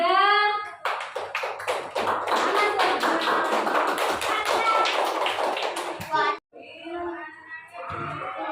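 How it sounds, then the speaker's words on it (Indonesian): Classroom applause for a student group: a burst of dense clapping with children's voices mixed in, lasting several seconds before breaking off, followed by a teacher speaking. "Tepuk tangan untuk kelompok 3."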